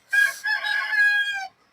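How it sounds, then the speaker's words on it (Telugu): A rooster on a terrace farm crows once, loud and close, in a single drawn-out call of about a second and a half, with no talk over it. "నా కోడి కూతలు వినిపిస్తున్నాయా?"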